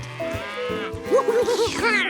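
Cartoon cows let out several stretched, wavering moos in a row, loud and close.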